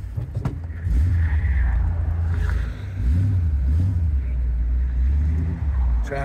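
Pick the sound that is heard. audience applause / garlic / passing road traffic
passing road traffic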